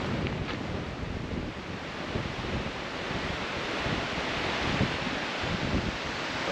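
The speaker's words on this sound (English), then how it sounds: "A bit windy though at the minute" Strong wind buffets the microphone outdoors on the Cheviot Hills in Northumberland, a loud, continuous roar with gusty low rumbling throughout and no voices.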